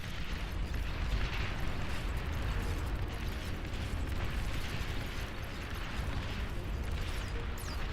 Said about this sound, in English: What is all that artillery?